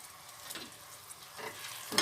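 Sliced onions sizzle quietly in hot oil in a pan, a soft continuous frying hiss with a few brief stirring scrapes.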